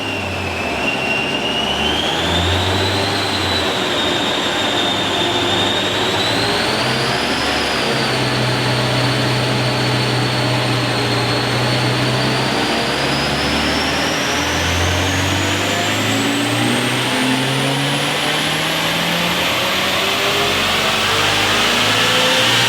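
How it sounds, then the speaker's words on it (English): A stock turbocharged JDM Subaru WRX STI roars on a dyno, a loud continuous engine and turbo note whose pitch climbs steadily through the run, with heavy low rumble underneath and no talking. "we put the car on the dyno in the standard form just to see what the baseline power figures are"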